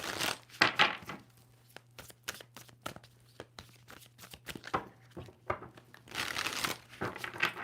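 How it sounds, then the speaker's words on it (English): Papery riffling and snapping of a tarot card deck being shuffled close by, in several quick bursts with brief pauses between. "Two more shuffles for Leo."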